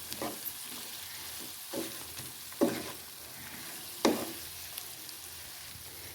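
A chicken devil mixture sizzles gently in a pan while a spoon stirs it, scraping in a few distinct strokes over a steady low frying hiss; a brief word is spoken.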